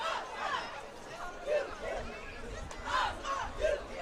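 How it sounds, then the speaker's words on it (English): Two football cheer squads shouting chants together at the start of a game, rhythmic group yells rising and falling over crowd noise. "both cheer teams cheering together to start the game"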